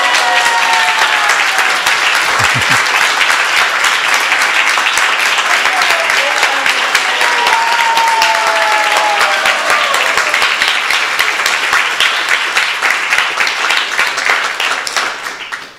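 Sustained, loud applause from a gathered audience at a spiritual talk, honouring Vaisesika, a dense continuous clapping that holds steady throughout before tapering off at the very end, with some voices mixed in.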